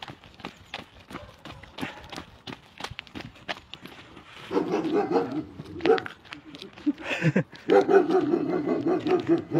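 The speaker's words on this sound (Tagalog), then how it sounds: "May aso, ang laki oh" Large dog barking and growling outdoors, sharp barks early, then rougher growling, with people talking and footsteps of joggers running.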